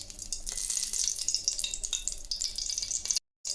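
Ghee sizzling in a hot pressure cooker while cooking sambar rice, a steady close hiss that cuts off briefly near the end.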